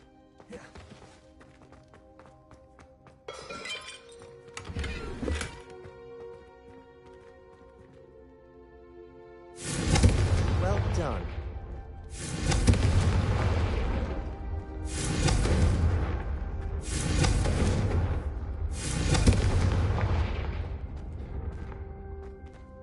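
Confringo fire spell blasts in Hogwarts Legacy on PS5, a few short bursts early, then a series of loud booming explosions with fiery crackle, about five heavy hits spaced a second or two apart.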